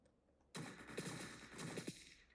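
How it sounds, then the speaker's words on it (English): A single loud gunshot from the tactical heist game Entry Point cracks out of near silence, followed by a sustained noisy burst with a couple of sharper hits as it trails off. "that gunshot was genuinely absurd"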